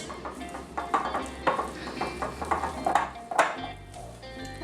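Cookie dough made from cake mix being stirred in a bowl, close irregular scraping and knocking strokes of a utensil against the bowl with a few clinks, no voices.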